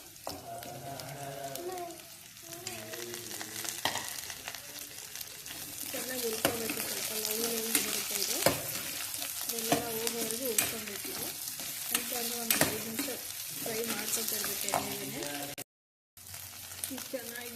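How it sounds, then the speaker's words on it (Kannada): Okra (lady finger) fries in oil with onion and mustard seeds, a close, crackling sizzle with spatula stirs, while a voice talks over much of it. A brief silent gap comes near the end. "ಇದಾಗಿದೆ ಬೆಂಡೆಕಾಯಿ ಎಣ್ಣೆಲಿ ಫ್ರೈ ಆಗಿದೆ"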